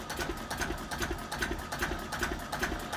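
A Russell Newbury DM2 two-cylinder, 2.6-litre four-stroke diesel runs in a boat's engine hold, with a close, steady, rhythmic chugging and knocking that goes on with no talk.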